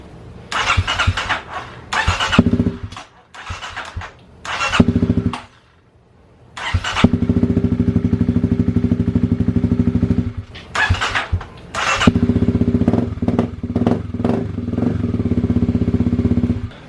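A Kawasaki KLX250 motorcycle fitted with an FMF Q4 Megabomb exhaust revs close by in several short, punchy blips separated by brief pauses, then settles into a steady, loud running drone.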